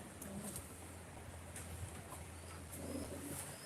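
A racing pigeon coos softly in a loft during basketing before a race, with low repeated coos and a few faint chirps over a quiet, steady background hum.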